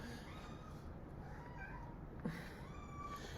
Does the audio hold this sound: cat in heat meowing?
yes